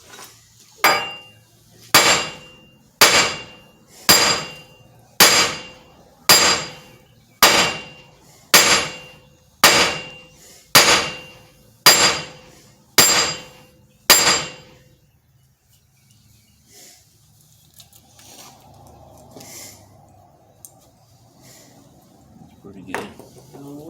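A hardened chisel is hammered to remove a hub bearing on a 2012 Lincoln MKS, with about a dozen loud, evenly spaced metallic strikes, followed by quieter clinks and faint talk.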